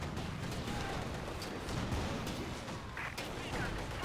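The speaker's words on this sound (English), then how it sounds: "immediately taking fire, it seems, from the Su-85, the newly arrived Su-85" An Su-85 tank cannon firing in Company of Heroes 2 during a battle, with booming gunfire and explosions in the mix and a commentator talking over them.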